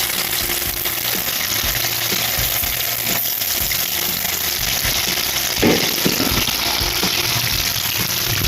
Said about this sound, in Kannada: ಇದನ್ನೀಗ ಎಣ್ಣೆಯಲ್ಲಿ ಫ್ರೈ ಮಾಡುವ.